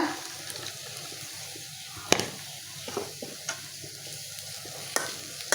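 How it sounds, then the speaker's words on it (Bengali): Beaten egg with onion and carrot sizzles softly in a pan while a utensil stirs and scrapes, giving occasional sharp clicks over the steady frying hiss. "তো এটা আমি হালকা বাজাই দিব বেশি বাজা দিব না"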